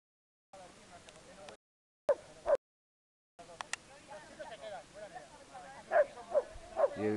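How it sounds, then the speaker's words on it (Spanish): Nubol, Carlos's dog, barking and yipping outdoors at a paragliding field at the end of a flying day, with several separate barks under people talking, in short broken segments. "el perro"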